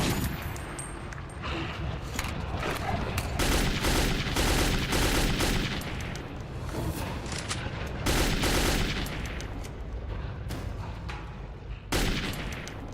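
Dense, continuous gunfire from Metro 2033 fills the whole stretch, loud overlapping shots and bursts with rattling automatic fire and heavy booms, barely pausing.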